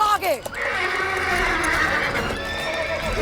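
A horse neighs loudly and close by, a long shrill whinny with hoof clip-clop around it, set in a dramatic scene about Rani Lakshmibai of Jhansi.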